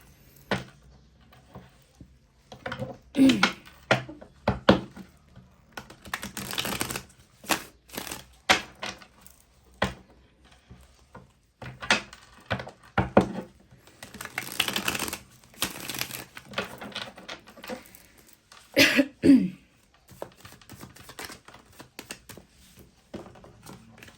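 Tarot cards are shuffled by hand in irregular bursts of papery riffling and slipping, close and fairly loud, with short pauses between bursts and no voice over them.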